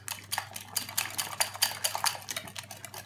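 A utensil scrapes and knocks against a bowl while rum is stirred into pastry cream for a galette des rois, giving quick, uneven strokes that are close and fairly quiet.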